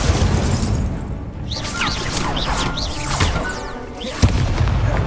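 The Incendio fire spell is cast in Hogwarts Legacy, a loud, dense burst of whooshing flame and booming impacts with swirling magical shimmer, ending in a sharp hit near the end. It plays continuously with no speech.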